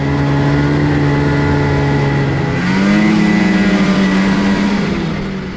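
A 1994 Ski-Doo Enticer II snowmobile with an oil-injected 410 two-stroke engine runs steadily nearby, its buzzing idle rising briefly in pitch midway, loud and alone without talk.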